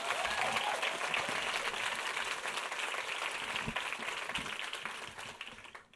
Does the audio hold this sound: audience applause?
yes